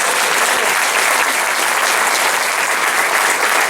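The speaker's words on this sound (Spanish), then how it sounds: "Denle aplauso fuerte a la palabra de Dios" A church congregation applauds loudly, a dense, continuous roar of clapping that stays full and even throughout, close and without any voices standing out.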